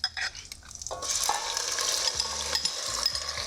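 Chicken pieces hit hot oil with ginger and garlic in a wok-style stir fry, bursting into a loud, steady sizzle that continues throughout, with a few low knocks of the pan and utensil near the end.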